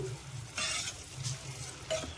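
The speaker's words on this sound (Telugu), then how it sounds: "పప్పులో తాలింపు వేస్తున్నాం" A tempering sizzles as it goes into cucumber dal: soft, close frying crackle with brief louder bursts and faint stirring, no voices.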